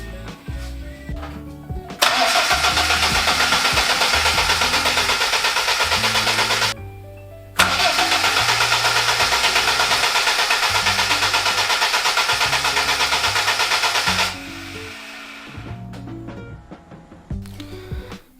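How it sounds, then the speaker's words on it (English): A BMW E30 engine started for the first time after eight years: starter cranking, then it catches and runs loudly and steadily, cuts out, fires again for several more seconds, then dies, leaving clicks and mechanical ticking. "We will now try to start the engine, and hopefully it works now."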